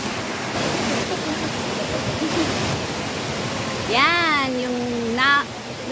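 Ng Tung Chai waterfall gives a constant rushing hiss of falling water throughout, while a person speaks briefly over it toward the end.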